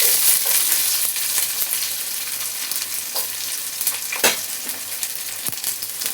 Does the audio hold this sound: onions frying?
yes